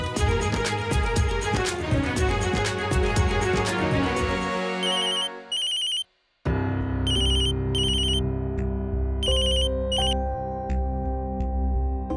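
A telephone ringtone plays in repeated bright electronic bursts, each a cluster of quick tones, after the music before it fades out and a moment of silence passes.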